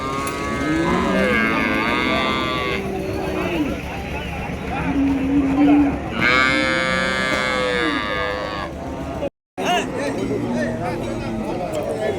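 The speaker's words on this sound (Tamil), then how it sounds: "இந்த மாதிரி கண்ணுக்குட்டிங்க சின்ன சின்ன வளர்ப்பு கண்ணுக்குட்டிங்க" Young calves at a rural cattle market in Madhanapalli moo repeatedly, with long drawn-out calls rising and falling close by, over a steady crowd murmur and people talking nearby.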